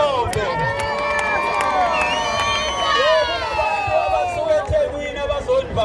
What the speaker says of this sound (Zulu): Sicela nishayele abantu abasuka eThekwini ihlombe.